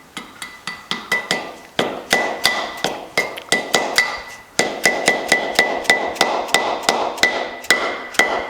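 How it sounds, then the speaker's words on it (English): A dead blow hammer tapping a new wheel bearing race into place on a car or truck, a close, sharp series of evenly spaced metallic knocks with a brief pause partway through. "So I just take a dead blow hammer and get it started."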